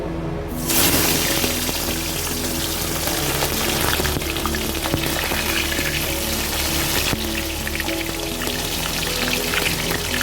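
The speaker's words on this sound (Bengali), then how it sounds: "তেল গরম হয়ে গেছে কড়াইয়ে এবার একে একে মাছগুলি ভেজে নেব" Pomfret fish dropped into hot oil in a wok set off a loud, dense sizzle that begins abruptly and continues steadily, close up and with no talking.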